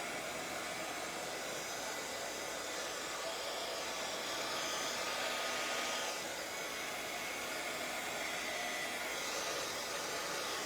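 A hair dryer blows steadily and continuously at close range, drying paint on Scrapfimo clay, a constant broad rushing whoosh with no pauses or voices.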